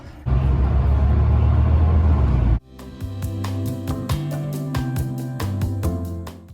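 A bus and street traffic passing in a city street, a loud close engine rumble that stops abruptly, then lighter traffic noise with repeated sharp rhythmic clicks and clatter.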